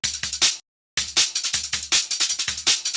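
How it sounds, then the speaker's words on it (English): A punchy drum loop with kicks and crisp, noisy snares and hats at a fast breakbeat tempo, briefly dropping out before continuing. "And then we have this drum and bass type of loop."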